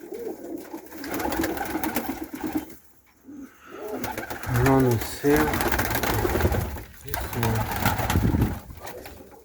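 Iranian and Pakistani high-flying pigeons coo close by in repeated soft, throaty bursts, mixed with someone talking over them, with a brief quiet gap near the start.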